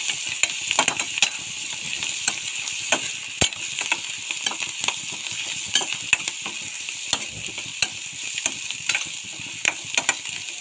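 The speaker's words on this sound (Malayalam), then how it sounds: "അപ്പോൾ ഒന്ന് ഇളക്കി കൊടുക്കാം." Leftover parotta pieces and turmeric powder are stirred in a pan, producing a continuous gentle sizzle with frequent sharp scrapes and clicks of a spatula against the pan, with no talking.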